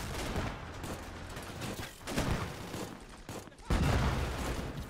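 Flak and anti-tank guns firing in the Gates of Hell war game, a dense barrage of heavy booms and blasts in repeated bursts, loud and close, with a sharp surge near the end.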